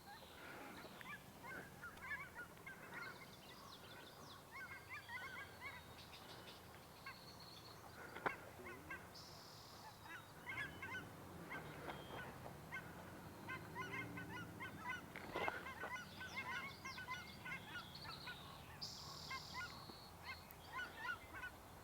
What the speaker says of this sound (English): So the cackling goose, that's what Merlin ID heard.